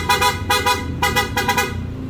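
The horn of a 2017 Chevrolet Trailblazer, wired to LED front grille lights, sounds in a series of loud, close, uneven beeps, some short and some held, with no talking.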